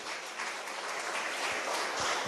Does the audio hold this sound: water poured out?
no